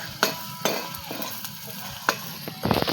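Ginger paste frying in a pan over a gas flame, a soft steady sizzle broken by several sharp spoon-stirring clinks and scrapes, close and fairly quiet.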